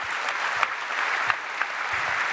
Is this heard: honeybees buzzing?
no